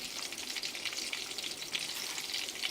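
Chana dal, mustard seeds and cumin frying in oil left over from frying drumsticks for a moringa mango pickle: a steady, close, bright hiss of sizzling oil with no talking.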